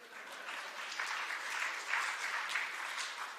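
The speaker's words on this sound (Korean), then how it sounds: "박수 한번 치세요." A church congregation claps together after a sermon speaker's prompt, a steady, even wash of applause that swells slightly midway and holds throughout, moderately close with no talking over it.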